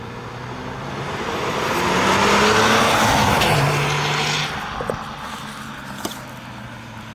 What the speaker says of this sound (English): I'm just gonna do like a little pull in front of the shop here